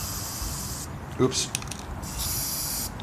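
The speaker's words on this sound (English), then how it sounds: "So I'm going to go ahead and spray a little bit of this in here." An aerosol spray can hisses in two steady bursts while being used on a cracked cast iron Viking stove grate, with a brief click and a short spoken exclamation between the sprays.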